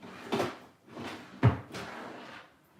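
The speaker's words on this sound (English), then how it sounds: "let me just look here in my stamp drawers" Stamp drawers in a crafting space sliding open and shut: four close, hollow wooden knocks and rumbles, the third sharper and louder, each trailing off, with no talk.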